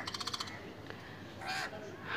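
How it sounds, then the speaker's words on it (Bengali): A crow calls outdoors near a garden with trees, a couple of hoarse caws following a quick rapid series of clicks, faint and at some distance with soft ambient background. "আর এই যে কাকটা, সে ডাকতেছে"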